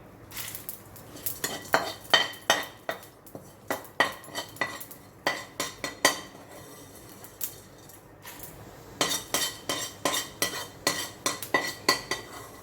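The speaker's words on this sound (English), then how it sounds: "I'm putting it in the chutney jar again." Cooked masala scraped and spooned from a pan into a chutney grinder jar: repeated sharp metal clinks and scrapes in bursts of several quick strokes, with brief pauses between, close and fairly loud.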